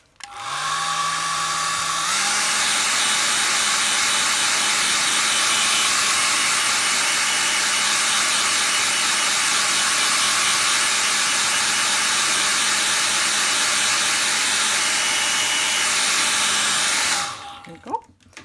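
A dryer blows steadily on fresh paint on a painted stone, making a loud, continuous whirring rush that holds for about seventeen seconds before switching off.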